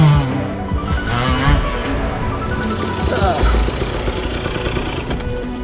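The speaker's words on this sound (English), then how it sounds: "Husqvarna 250 by the sound of it." A Husqvarna 250 dirt bike revs hard while climbing a steep hill, its engine loud and close with a busy rasping drone throughout.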